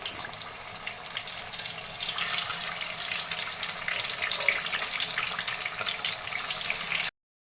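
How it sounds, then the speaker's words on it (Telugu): Fish pieces deep frying in hot oil in a kadai give a steady, close, broadband hiss and crackle, sustained evenly throughout before stopping abruptly. "ఇప్పుడు ఫిష్ని ఇందులో నెమ్మదిగా ఒక్కొక్కటిగా వేస్తూ ఫ్రై చేసుకోవాలి"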